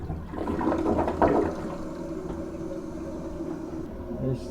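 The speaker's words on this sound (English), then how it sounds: "And third and final flush." A newly installed toilet flushes, a rushing burst of water that peaks early and then settles into a softer refill hiss, close and alone.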